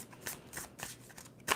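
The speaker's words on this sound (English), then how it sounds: "2 more shuffles." Tarot cards shuffled in quick bursts, several crisp riffling and snapping passes spaced through the moment, close and fairly quiet with no talking.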